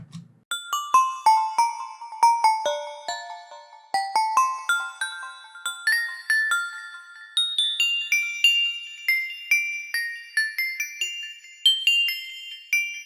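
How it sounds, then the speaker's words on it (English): A bright bell preset on the Serum synthesizer plays a stepping melody, notes ringing and decaying one after another, climbing gradually higher, clear and alone. "Here's a really nice bell sound."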